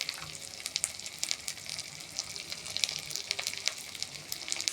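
Ground spices with ginger paste frying and being stirred in a pan for a spicy puti fish curry, a steady close sizzle with scraping and mixing clicks throughout, no voices.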